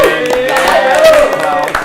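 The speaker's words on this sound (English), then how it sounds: "Big round of applause for Kyle Clausen, ladies and gentlemen." Audience applause for comedian Kyle Clausen at a geek-themed stand-up comedy show, a dense steady wash of clapping with a voice talking over it throughout.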